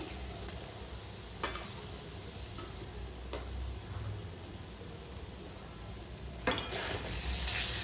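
Fried potatoes are stirred into a spice mixture in a pan for potol paneer, giving a soft, faint sizzle with a few sharp utensil knocks against the pan.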